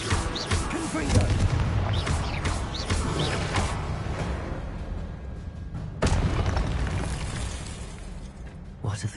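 The Confringo explosive spell from the Hogwarts Legacy video game going off amid a fight, producing loud, dense booming blasts and crackling bursts that run almost without pause, with a fresh heavy burst partway through.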